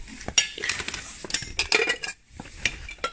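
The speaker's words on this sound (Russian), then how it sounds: "Жестяной шарик." Metal and ceramic items clink and clatter together at a German flea market as a tin ball is handled, a string of close, sharp chinks with brief pauses.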